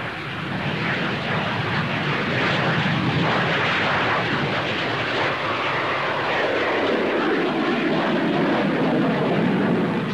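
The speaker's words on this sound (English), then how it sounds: "Back to civil aviation and Britain's first executive jet," A Hawker Siddeley 125 executive jet with two Rolls-Royce Bristol Siddeley Viper engines passes by, a loud, sustained roaring whine that swells and shifts in tone over ten seconds with no voices.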